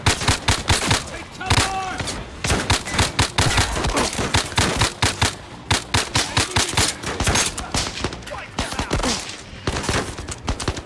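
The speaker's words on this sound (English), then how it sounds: "I took some heavy fire that time." Heavy gunfire in the VR shooter Zero Caliber, rapid, loud bursts of shots and automatic fire hammering nearly nonstop. A player's voice is briefly heard in the mix.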